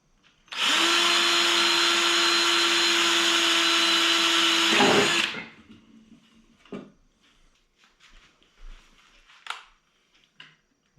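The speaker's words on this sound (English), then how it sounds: "Now the screws, just get them drilled in there first." Power drill driving small self-tapping metal screws while converting an Ooni Fyra pizza oven from wood pellets to propane: one loud, steady whirring run of about five seconds that stops abruptly, followed by light knocks and handling noises.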